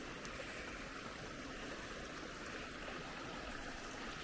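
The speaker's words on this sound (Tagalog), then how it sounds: "Yung tubig na galing bundok papuntang reservoir." Steady rushing water of a mountain stream flowing toward Dovestone Reservoir, continuous at close range, a constant broadband wash with no voices or breaks.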